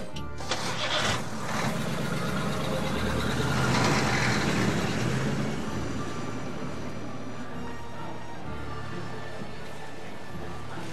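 A 1910s-era Paris taxi engine cranks, catches and settles into a steady mid-pitched idle, loud and close at first, then fading slightly, with no voices.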